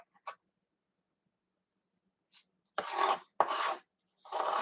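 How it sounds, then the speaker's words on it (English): Fresh cilantro being finely chopped with a knife on a cutting board, heard as a few short rasping strokes and then three longer bursts of steady scraping cuts, close and clear with no talk. "So I'm going to cut this finely."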